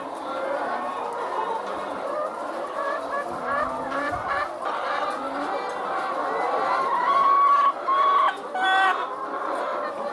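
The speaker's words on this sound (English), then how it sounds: "Hope you're enjoying that melodious sound from the chickens." Many egg-laying hens, 55 weeks into laying, cluck and squawk together in a steady, busy chorus, close by, with occasional higher calls rising above the flock.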